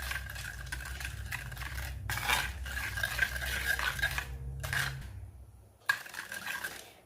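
A spoon stirs rock salt into curd with repeated scraping and clinking against the bowl, close and fairly soft, pausing briefly before a final sharp knock and a few more scrapes.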